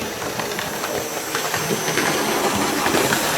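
A Hornby 28XX model steam locomotive runs on a layout, producing a continuous, fairly loud rushing whir of the motor and rolling wheels with no talking.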